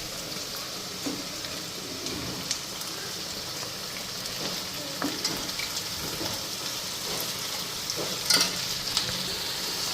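Onions and chicken liver fry in a pan with a constant, even sizzle like light rain, close by, with a few soft stirring knocks and no talking.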